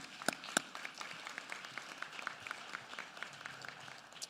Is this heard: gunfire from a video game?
no